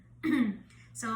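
A voice imitates a cough, giving one short, throaty cough-like burst followed by a brief second sound, close and fairly quiet.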